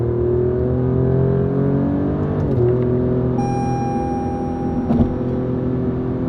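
An Alfa Romeo Giulia Quadrifoglio engine in race mode with exhaust flaps open hums and rises in pitch, with gear-shift dips as it accelerates, steady and close from inside the cabin, with a faint beeping tone.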